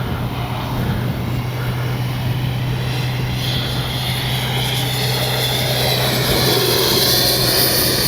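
An FMS Avanti S 90mm RC jet flies in windy conditions, its loud, continuous high-pitched turbine-like whine holding steady and close throughout, with wind rushing over the microphone and no talk.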